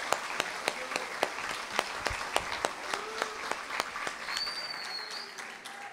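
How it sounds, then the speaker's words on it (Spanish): Audience applause for a professor at an academic presentation, a steady spread of many hands clapping at moderate distance, with sharper individual claps standing out throughout. "con ayuda del profesor Pablo Pasechú, un aplauso para el profesor, por favor."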